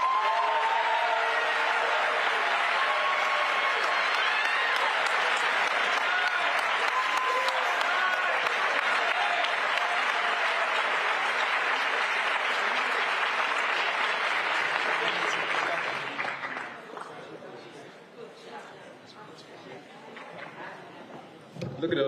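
A large audience at East High School applauds young people with sustained, loud clapping for about fifteen seconds, then it tapers off and leaves quieter room noise.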